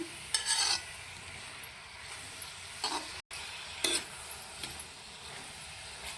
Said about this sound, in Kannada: ಈಗ ಇವಿನ್ನೂ ತರಕಾರಿ ಸ್ವಲ್ಪ ಫ್ರೈ ರೀ